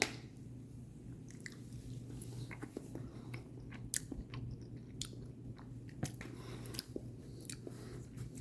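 Someone chews a bite of a ready-made meal of tender meat and rice close to the mic, with soft squishy chewing and occasional small crunches over a low steady hum.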